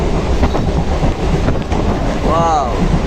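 A passenger train near the Gede border crossing rattles steadily along the rails. The noise is loud and close with a continuous rumble and wind buffeting, and a brief squeal rises briefly near the end.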